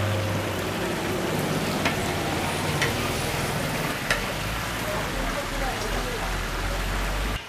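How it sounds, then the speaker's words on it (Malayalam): A large batch of chicken deep-fries in hot oil at a biryani eatery, with a dense, loud, continuous sizzle like heavy rain and a few sharp pops throughout. "എന്തായാലും ഈ കിണ്ണം നിറച്ച് ചിക്കനാണ്. അത് മൊത്തം നമുക്ക് വറുത്തെടുക്കണം."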